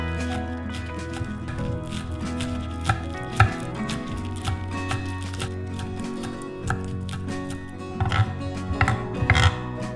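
A bunch of scallions chopped on a board, rapid knife strikes in an even rhythm over a faint background hum, close and steady for the whole stretch.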